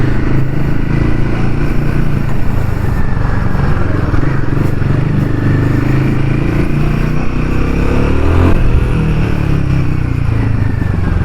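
A Royal Enfield Himalayan 450 motorcycle engine runs loud and close while riding, a steady throbbing drone with a slight rise in revs near the end, with wind noise throughout.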